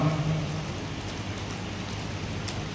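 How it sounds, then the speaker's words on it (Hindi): Steady rain falls during an outdoor religious gathering in Jharkhand, a dense, even hiss of drops that continues without a break and without any voices. "बारिश हो रही है"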